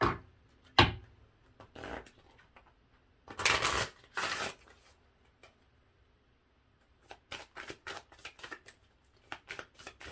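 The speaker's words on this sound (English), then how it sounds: "I want to pull 2 more oracle cards." Oracle cards are shuffled up close in short, papery riffling bursts, a few separate flurries at first and then a quick run of rapid snaps near the end, with quiet pauses between.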